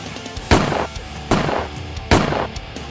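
Gunshots fired at an alien creature in a film ring out as three loud, booming blasts about a second apart, each trailing into a short decay.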